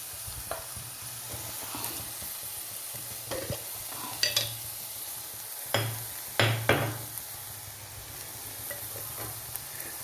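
Garam masala and turmeric sizzle softly in a pan while a spoon scrapes and clinks against the metal in irregular stirring strokes, quiet and close.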